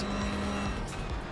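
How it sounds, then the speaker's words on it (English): A race car slides through a corner in a racing game, its engine droning steadily with tire noise, loud and continuous with no talk. "Slight braking zone as we slide the car through there."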